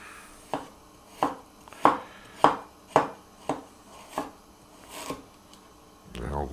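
A knife chops ginger on a board for stir-fried noodles, with about nine crisp, evenly spaced strikes close up, followed by a soft scrape at the end.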